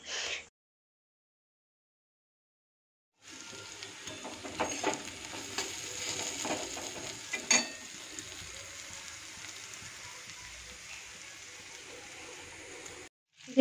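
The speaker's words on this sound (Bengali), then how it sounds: "একটু আলু আর একটু পেঁপে কড়াইতে ভাজতে বসিয়ে দিয়েছি।" Potato and papaya pieces fry in a wok for a fish curry, a soft, even sizzle with light stirring that starts after a few seconds of quiet and carries on steadily.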